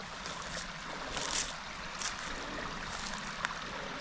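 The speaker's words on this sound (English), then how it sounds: "So here's some natural water down in here" Natural water running down off a mountain in the Oregon wilderness, a faint, steady rushing trickle with a few small splashes and no voices.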